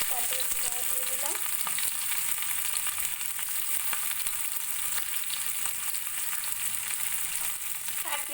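Onions frying in hot oil with whole garam masala, small cardamom and chili, a steady bright sizzle that stays even and continuous, with faint clinks of stirring.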